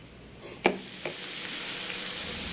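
Chicken mixed with a cashew and almond paste in a hot pan, giving a steady sizzle with a couple of sharp spoon knocks and scrapes near the start.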